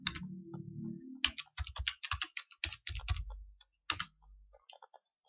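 Typing on a computer keyboard, a close, quiet run of quick key clicks in irregular bursts with short pauses between.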